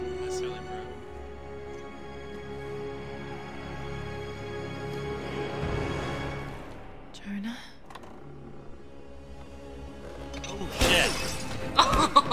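Glass objects in Rise of the Tomb Raider clatter and shatter, a sudden bright burst of breaking glass near the end after quieter game sounds and ambient music, with people talking faintly underneath.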